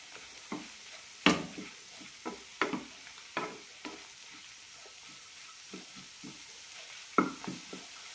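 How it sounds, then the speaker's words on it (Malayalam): Tomato and grated coconut stirred and heated in a pan for Palakkad-style tomato chutney: a soft sizzle runs underneath while a spoon scrapes and clinks against the pan in scattered, irregular strokes, close and fairly quiet. "ഇനി ഇതിലേക്ക് തേങ്ങ കൂടി ചേർക്കാം അരക്കപ്പിലും കുറച്ച് കുറവായിട്ടാണ് ചേർക്കുന്നത് നന്നായി ചൂടാക്കിയെടുക്കാം"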